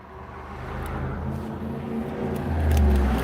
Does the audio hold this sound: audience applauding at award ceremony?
no